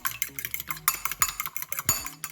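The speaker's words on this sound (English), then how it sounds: "I'm just gonna take this fork and whisk it" A fork whisks a melted cheese mixture for Bahamian-style macaroni and cheese, rapid irregular clinks and scrapes against the dish in quick bursts, close and fairly loud, with no voice.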